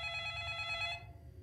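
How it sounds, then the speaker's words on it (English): A telephone ringing loudly up close, a bright repeating electronic ring that runs for about a second, then cuts off and leaves quiet room noise. "My phone is so loud."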